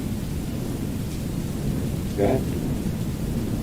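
Steady broadband hiss of rain in the Wickie video game, a constant wash at moderate level, with a short spoken word partway through.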